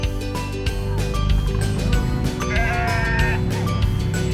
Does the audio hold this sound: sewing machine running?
no